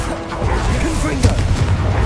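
Confringo blasting spell explosion in the Hogwarts Legacy video game: a booming impact lands about midway under a voice and in-game noise, followed by a rumbling low tail.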